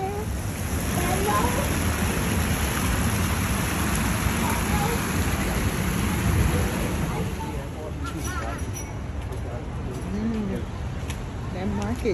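Rain falls steadily as a broad, constant hiss on a city walk in rainy Seattle, with birds cooing now and then over the wash of the downpour.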